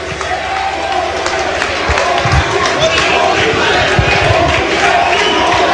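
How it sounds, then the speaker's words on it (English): Wrestling crowd at a Teddy Hart vs Sabu match roaring in a sustained, dense chant, loud and continuous with shouting voices throughout, filling the arena. "The crowd chanting, "Holy shit!""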